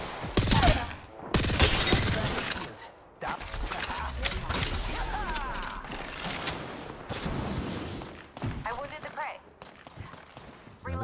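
Gunfire in Apex Legends: repeated bursts and single sharp shots, close and loud, with gaps between volleys, mixed with weapon mechanism clicks and game effects while players talk over it.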